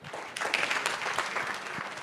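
Audience applause at a judicial conference, a fairly faint, continuous patter of many hands clapping in a large room, steady throughout without a voice over it.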